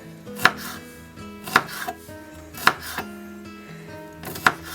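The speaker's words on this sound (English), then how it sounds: "to deal with the garlic, just slice them like this. Quite big." Garlic cloves sliced with a knife on a cutting board for potatoes dauphinoise in garlic cream, four crisp, evenly spaced chops close up, with a low hum beneath and no talking.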